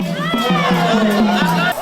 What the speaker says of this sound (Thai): กองเชียร์เวียสุกลวัฒน์และมินพิชยาแรงดี ไม่มีตกร้องเพลงเชียร์ตลอดการแข่งขันค่ะ